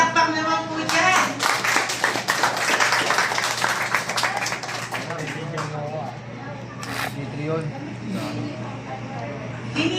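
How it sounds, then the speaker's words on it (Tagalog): Applause at a first birthday celebration, a burst of many hands clapping close and loud that thins out after a few seconds, with people talking and chatter over and after it. "Sa palakpak naman po dyan."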